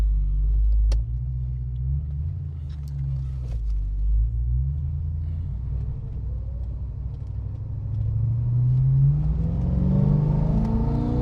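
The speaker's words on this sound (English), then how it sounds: "I love the sound of the secondaries opening up on that 4-barrel car" A 1972 Pontiac Firebird Formula V8 with a four-barrel carburetor rumbles low and steady, then revs up hard near the end as the secondaries open, its pitch climbing as the engine roars louder. No voices.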